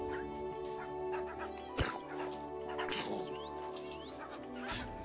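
Minecraft wolves yip, whine and whimper in short rising cries over a faint game hum, with a few sharp clicks and a brief voice in between.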